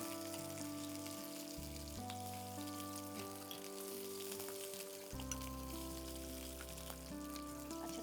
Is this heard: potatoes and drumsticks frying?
yes